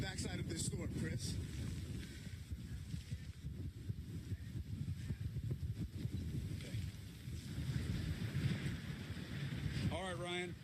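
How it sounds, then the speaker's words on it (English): Strong wind from Hurricane Irma roars and buffets the microphone in surging gusts that rise and fall continuously, loud and rough throughout, with a voice heard faintly near the end. "So you can get an idea of how the wind gusts keep coming and going."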